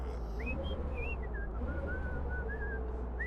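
A passenger whistles a wandering, tuneful melody aboard a bus in the Bus Simulator 16 video game, clear and close over a steady low engine hum.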